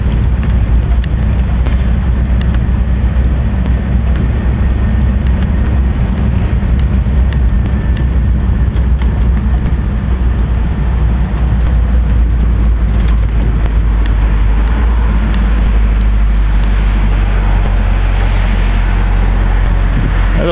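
A 1974 Cadillac Eldorado convertible drives along in traffic, its engine and road noise making a loud, continuous low rumble with no distinct breaks.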